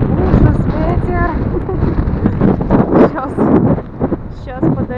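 Strong wind buffets the microphone in cold Polish weather, rumbling in low gusts underneath a person talking close by.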